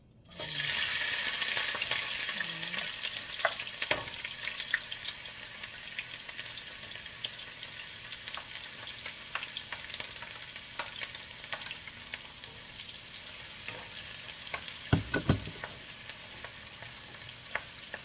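Onions frying in a pan for sotanghon noodle soup, a steady close sizzle with occasional stirring scrapes and clinks that continues throughout without talk.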